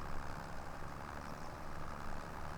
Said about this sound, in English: Come on, tractor, up the hill.